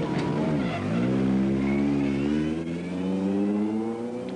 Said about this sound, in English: 400 horsepower short wheelbase Audi Quattro leads the field away from the start